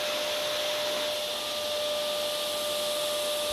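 Workshop dust extractor driven by a 1000 watt motor, a steady loud whooshing roar with a constant whine running unbroken throughout, no other sounds.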